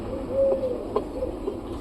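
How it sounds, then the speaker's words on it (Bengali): Pigeons in a home coop cooing softly, a few low mellow coos at moderate distance over faint room noise. "এখানে কবুতরগুলো বসে আছে"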